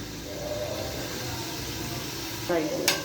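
Eggplant fries in hot oil over high heat, a steady close sizzle with a brief stirring scrape near the end.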